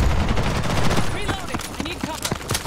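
SMG fire in the Ghost in the Shell video game: fast bursts of shots crackling over a busy, noisy match, with short chirping effects mixed in.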